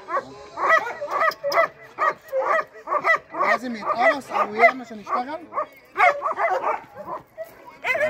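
An anxious dog gives repeated short whimpers and yelping barks in an uneven rhythm, fairly close, while someone talks over it.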